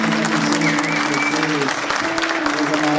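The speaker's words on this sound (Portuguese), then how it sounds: "Vamos dar uma salva de palmas bem carinhosa para nossos irmãos de Peixinhos" A church congregation at a Sunday service claps in a warm, sustained round of applause, with a few voices and a low musical tone underneath.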